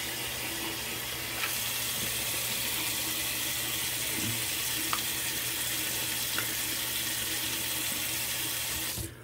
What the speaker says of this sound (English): So let me get a cold water rinse in.